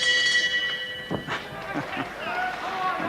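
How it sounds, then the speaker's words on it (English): A boxing ring bell ends a round at a flyweight bout, ringing with a sustained, steady tone that fades over a constant crowd roar, with a voice speaking. "Break off at the exact moment of the bell."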